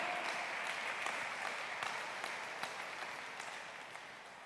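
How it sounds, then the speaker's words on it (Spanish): Steady applause from a church congregation during a sermon, fairly quiet and distant, tapering gradually over a few seconds with scattered sharper claps. "Dele fuerte el aplauso al Señor."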